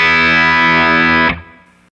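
A big, aggressive distorted electric guitar tone rings out as a single sustained chord, loud and alone, then cuts off and decays quickly.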